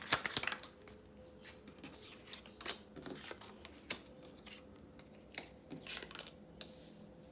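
Tarot cards being shuffled and drawn, with scattered soft riffles and card snaps at moderate distance, fairly faint, separated by quiet gaps and no talk.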